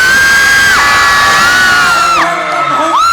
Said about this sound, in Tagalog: So, parinig kayong mga sigaw nyo para kay Kuya Kim!